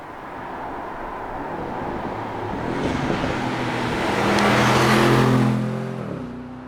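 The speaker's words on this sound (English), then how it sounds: "the exhaust is tuned to specific frequencies that supposedly trigger endorphin release" An Aston Martin Vantage Roadster's exhaust drones in a steady, rising sweep, swelling louder as the car passes close and then fading slightly, with no voices over it.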